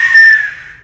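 A child blows a toy whistle in one short, shrill toot that is loud at first and then fades away, with no other sound around it.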